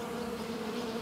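A bee buzzes in a low, steady drone that holds an even pitch throughout, faint and alone with no other sound.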